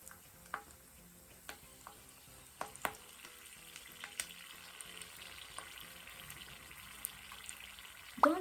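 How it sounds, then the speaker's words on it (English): A single prawn lowered into hot oil for Japanese deep-fried ebi fry, giving a faint, steady sizzle and crackle with scattered small pops and a sharper burst near the end. "So I wanna try one prawn. Put it into the oil slowly."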